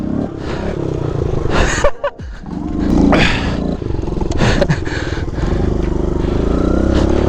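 A Kawasaki KLX 110 pit bike's small engine revs loudly in uneven blips and bursts, dropping out briefly near the start before buzzing on close and steady.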